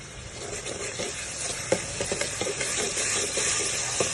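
Ginger garlic paste frying in a pan for a katakat dish, a steady close sizzle with light stirring clinks scattered throughout, no voices.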